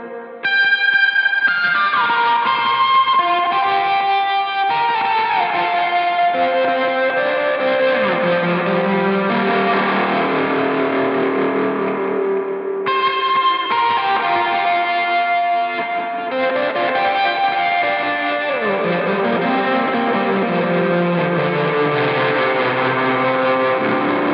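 Electric guitar notes pass through heavy effects, producing metallic, bell-like ring-modulated tones with swooping pitches and echoes, played alone.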